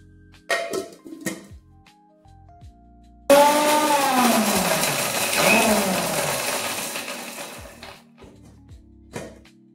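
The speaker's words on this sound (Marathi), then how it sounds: "आता हे मिक्सरमध्ये फिरवून घेणार आहे" After a few clicks and handling knocks, a mixer grinder whirs to life, grinding green chillies and salt in a loud, continuous roar whose pitch shifts as it runs for about five seconds before stopping abruptly.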